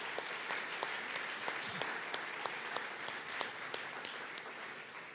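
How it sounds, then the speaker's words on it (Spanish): A church congregation claps steadily and continuously, faint and even in level throughout, with no talking. "¿Qué tal si levantamos un aplauso al Señor?"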